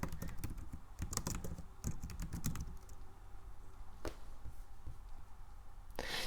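Keys clatter on a computer keyboard as text is typed in a quiet room, with a dense run of quick clicks at first, then sparser isolated taps and a sharper click at the end.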